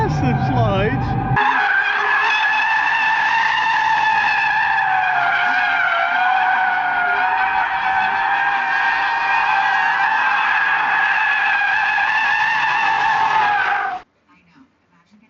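Audi RS5 tires squealing through a massive slide, a loud, steady, high-pitched screech that holds for about thirteen seconds before cutting off abruptly.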